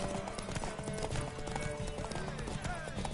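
Horse hooves clip-clop in a steady rhythm in The Witcher 3, with a horse whinnying, all under constant talk, music and background game ambience.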